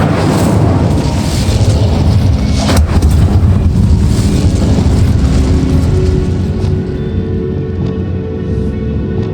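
Loud, roaring fire blast of the Incendio spell in the video game Hogwarts Legacy, a dense rumbling whoosh with a sharp crack near the start, sustained for several seconds before easing off slightly.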